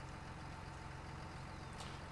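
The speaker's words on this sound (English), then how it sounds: "So we'll start the engine." A Farming Simulator 19 farm vehicle's engine runs at a steady, low idle, a constant rumbling drone that stays even throughout with no other sounds.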